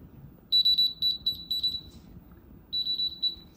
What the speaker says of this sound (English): You can go to your Find My app, play a sound.